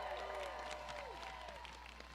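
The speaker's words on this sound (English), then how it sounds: "Let's give her a big, big round of applause." A campaign rally crowd claps and cheers in a steady wash of applause at moderate volume, with raised voices and shouts riding over it.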